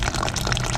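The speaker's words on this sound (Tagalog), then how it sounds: "So irarunning water muna natin yan" Tap water runs steadily over salted eggs being rinsed, a close, continuous splashing gush of moderate loudness with no talking.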